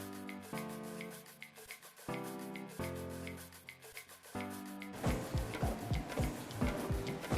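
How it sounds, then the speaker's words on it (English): A packing machine works on a food production line, giving off steady rhythmic mechanical ticking and humming cycles that become busier and more clattering toward the end. "So from there, it will move from the conveyor to the packing machine."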